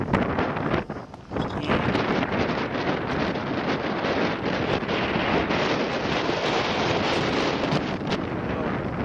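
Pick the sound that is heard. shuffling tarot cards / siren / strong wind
strong wind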